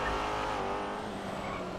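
A fast car roars along a highway in GTA, a loud sustained engine and tire rush held close for a brief moment with no talk over it.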